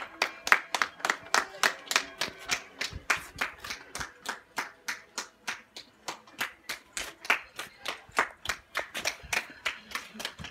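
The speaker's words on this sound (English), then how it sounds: "Everybody's clapping, look, for NHS." Neighbours clap for the NHS outdoors in a steady, rhythmic round of applause, many hands beating in a regular pulse for about ten seconds, moderately distant with no voices heard.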